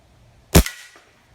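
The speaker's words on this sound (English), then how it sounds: "So let's just take one shot on the canister and go from there." A single sharp, loud Crosman Discovery PCP air rifle shot firing a .22 Red Flight Penetrator pellet into a canister, a sudden crack with a brief ringing tail and a faint thud of the hit just after.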